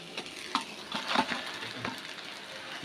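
Fish fries in oil in a pan for a Bengali fish curry, a fairly soft, continuous sizzle broken by scattered clicks and scrapes as the pieces are moved and turned.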